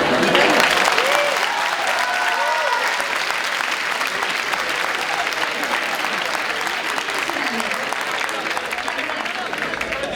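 Steady audience applause fills a university design biennial talk at FADU UBA, a dense wash of many hands clapping that stays loud throughout with faint voices mixed underneath.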